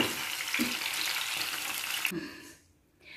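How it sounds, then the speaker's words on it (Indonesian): Spices sizzle as they fry in oil in a wok, a steady bright hiss that continues without talk, with a brief dip near the end. "lebih suka kita goreng terlebih dahulu bumbunya"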